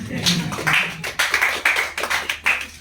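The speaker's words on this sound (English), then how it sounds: "Clap for yourselves." A lecture-hall audience at a civic-education bootcamp breaks into scattered clapping, a run of sharp, uneven hand claps with a voice briefly audible at the start.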